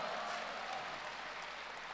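Audience applause at a live Deyunshe crosstalk comedy show with Guo Degang and Yu Qian, a steady wash of many hands clapping that stays even for the whole stretch, heard from the hall without any voices over it.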